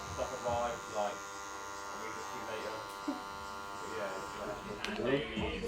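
An electric hair clipper used without a guard hums softly and steadily as its corner works out imperfections in a combed-back haircut with a middle part, a faint buzz running under quiet talk.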